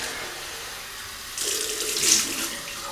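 A faucet starts running partway through and pours steadily into a sink to rinse a Pearl Flexi adjustable razor V.2 after shaving, a close, continuous splashing that rises slightly toward the end.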